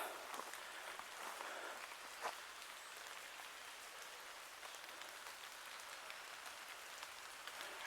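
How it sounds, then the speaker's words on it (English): Rain falls steadily through a small woodland, a soft, even patter on leaves and ground with occasional louder drops, quiet and continuous with no voices. "It sounds lovely with the rain running through as well."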